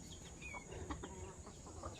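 Farmyard chickens cluck faintly in the distance, a few short soft calls over steady outdoor background noise.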